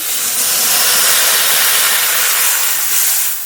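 Loud, steady hiss and steam as water is poured into a hot pan of beans and potatoes, a broad sizzle that holds for several seconds before easing slightly at the end.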